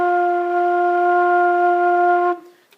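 A flute sustains a single steady low F near the bottom of the treble staff, warm and even for over two seconds before cutting off cleanly into a short fading tail.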